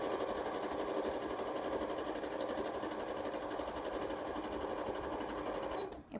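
An Usha Janome Dream Maker 120 sewing machine stitches at a fast, even rhythmic clatter, close and steady, stopping abruptly at the end.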